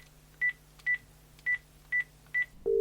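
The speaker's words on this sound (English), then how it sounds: "why don't I give him a little ring so you guys can all find out what Benny's up to" A phone is dialed with five evenly spaced, clear keypad beeps, followed by a steady tone starting at the end, heard alone with a faint low hum underneath.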